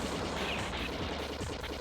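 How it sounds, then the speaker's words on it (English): Dense rapid gunfire in a retro video game rattles continuously through the short stretch, loud and crackling, with no pause between shots. "I like the gunshot noise."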